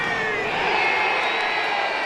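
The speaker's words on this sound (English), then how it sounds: "The crowd is sending out encouragement" College baseball crowd at an LSU–Missouri game cheers and shouts encouragement with the bases loaded, a dense, steady roar filling the whole short stretch.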